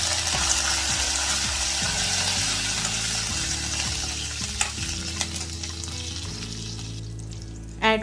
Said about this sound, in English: Add little curry leaves to it and fry until they are crisp.